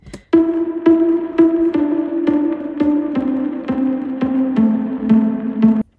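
A plucked guitar part for a pop song made in a bedroom, with evenly spaced notes ringing out one after another in a steady rhythm, clear and close.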